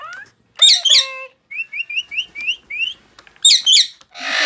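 A cockatoo gives a series of sharp, loud squawks and whistling chirps, short bursts in an irregular rhythm with brief pauses between them, close up and clear in a quiet room.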